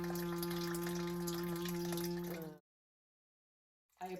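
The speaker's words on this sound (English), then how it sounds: "I'm just allowing that pump to go while I put the new sump pump together." An old sump pump runs steadily, circulating water with a continuous humming drone and watery gurgle, then cuts off abruptly into silence before a faint sound returns.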